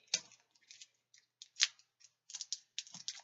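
Packing tape being cut and peeled on a cardboard shipping box of comics, a run of short crisp snips and slicing scrapes, close and fairly quiet, with no talking.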